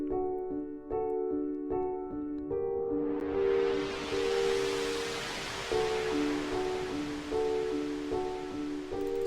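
Synth tones run through a wide delay with heavy feedback: a few repeating sustained notes, then a rising wash of noisy echoes that swells and lingers while the pitched repeats continue beneath it, with no voices.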